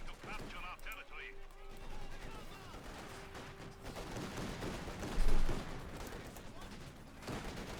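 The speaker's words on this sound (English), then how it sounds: "Guards Airborne equipped with the triple DP light machine guns." Machine gun fire from Guards Airborne squads carrying DP light machine guns in the strategy game Company of Heroes 2, with dense bursts of game gunfire and battle noise continuing under a commentator's talk.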